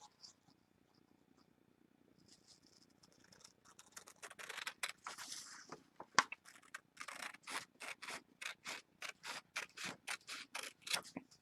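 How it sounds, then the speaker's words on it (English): Scissors cut a sheet of paper in half with a rapid, regular run of crisp snips, close and clear, starting faint and growing steadily louder. "Now I'm going to cut it in half because we only need 1/2 of this paper."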